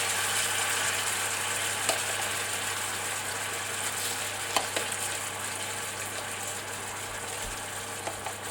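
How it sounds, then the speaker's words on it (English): Salmon bites searing in a hot pan give a steady, close sizzle with faint crackles, broken by a few small clicks and knocks of utensils, with no talking. "Alright, we've got our pan nice and hot. And now we're going to go ahead and sear off these bits of salmon."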